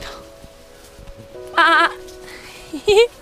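A sheep bleats twice on the Triund hiking trail in India, a wavering cry followed by a shorter one, close by, over faint outdoor background noise.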